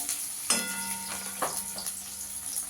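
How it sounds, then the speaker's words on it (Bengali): Onion sizzles in a pan as it is browned, a steady hiss with a couple of sharper crackling bursts, close and fairly loud. "পেঁয়াজটাকে একটু লাল করে ভেজে নেবো।"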